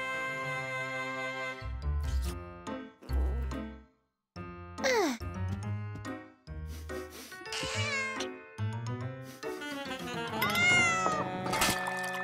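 A cat meows repeatedly, several drawn-out, wavering cries at close range with short pauses between them.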